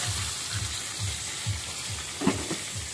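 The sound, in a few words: fish frying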